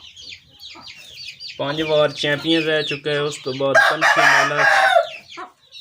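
An Aseel rooster of the Shajra breed, a prize-winning champion fowl, crows and clucks up close in a run of rhythmic calls while someone talks over it.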